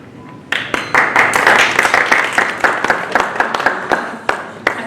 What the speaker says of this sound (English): I'm going to ask the audience to please hold your applause to the end.